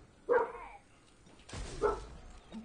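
A dog barks twice indoors during a gaming stream, two short sharp barks about a second and a half apart, fairly close, with no talking.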